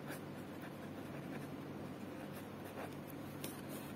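Pen writing on paper in a maths lesson, soft continuous scratchy strokes with small bursts, close and faint, no talking.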